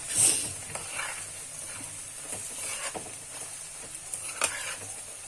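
Spices for egg masala curry are stirred in a hot pan, a soft, hissing sizzle broken by gentle scraping strokes of the spoon, close and fairly quiet.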